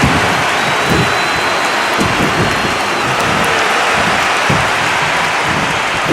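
Arena crowd in the WWE 2K25 wrestling game, a steady loud wash of cheering and roaring that fills the whole stretch without letup, like heavy rain.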